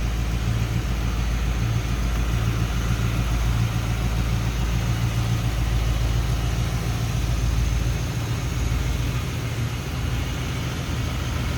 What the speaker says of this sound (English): Nice smooth running V8.